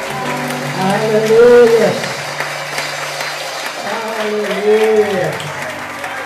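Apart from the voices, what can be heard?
church congregation applause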